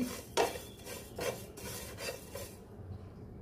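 Fine fennel seeds dry-roasting in a pan over low gas, stirred with a metal spoon: several distinct scraping strokes in a loose rhythm, close and fairly quiet, then a fade to near silence.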